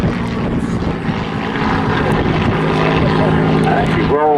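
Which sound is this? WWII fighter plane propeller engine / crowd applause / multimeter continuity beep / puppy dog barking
WWII fighter plane propeller engine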